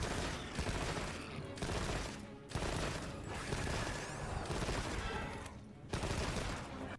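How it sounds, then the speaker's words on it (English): Light bowgun firing rapid shots in quick succession in the video game Monster Hunter, a dense continuous burst of gunfire-like blasts in several long runs broken by brief pauses, no talk. "use rapid fire energy to fire in quick succession"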